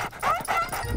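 A cartoon dog in Strawberry Shortcake's Berry Bitty Adventures gives brief whimpering yips, two quick high cries close up in about a second.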